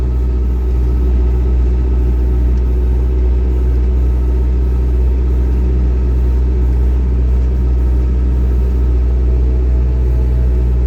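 A tractor pulling a KPS 4.2 cultivator through a field drones steadily with a deep, constant rumble that stays loud and unchanging throughout, with no voices.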